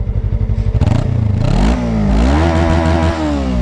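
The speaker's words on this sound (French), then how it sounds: "Bon, l'échappement d'origine." A Suzuki GSX 250 R motorcycle with its stock exhaust idles with a rapid, lumpy putter, then revs sharply up and holds a loud, close, buzzing high-rpm drone for several seconds.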